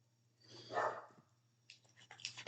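A puppy lets out a short, muffled bark or yelp, then a few quicker, fainter yips follow against a low steady hum indoors.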